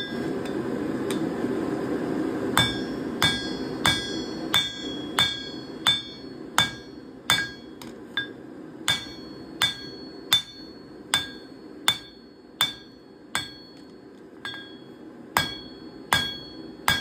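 Hammer chamfering the edges of a steel door knocker blank during forging, heard as a steady series of about fifteen sharp, ringing metallic strikes at a regular rhythm, loud and close over a low background rumble.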